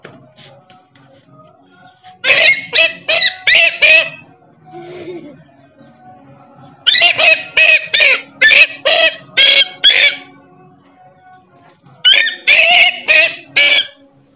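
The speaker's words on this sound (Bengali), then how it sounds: "তাহলে চলুন গাইস কথা না বাড়িয়ে মেয়ে পাখির ডাকটা শুনে আসা যাক।" A female purple swamphen (kalim bird) calls in three bursts of rapid, harsh, repeated squawking notes, loud and close, with quiet pauses between the bursts.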